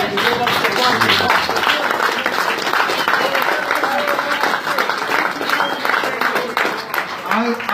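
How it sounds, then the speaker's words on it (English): A political rally crowd in Freeburg, Illinois breaks into sustained applause, dense clapping filling the space with a few cheers, strong at first and easing slightly toward the end. "And we owe Bob, we owe Bob some applause"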